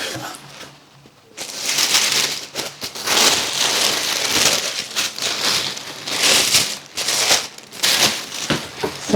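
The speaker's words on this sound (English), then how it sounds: "Sorry for all the rustling." Crackly plastic packaging rustles and crinkles in bursts as a finished crochet ripple blanket is unwrapped, close and fairly loud, with uneven pauses between handling noises.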